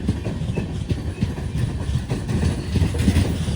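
Inside the Matsyagandha Express rake as it runs near Kanhangad, a loud, continuous carriage rumble with rapid clickety-clack of wheels on the track, no one speaking.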